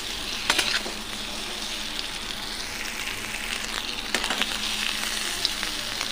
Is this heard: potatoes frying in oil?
yes